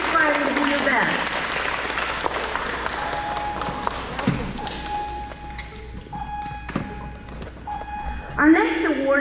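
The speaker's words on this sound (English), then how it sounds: "Let's give our most improved students a round of applause." Crowd applauding at an elementary school awards ceremony for grades 3-5, clapping fading and pausing amid thumps and taps, with voices talking over it.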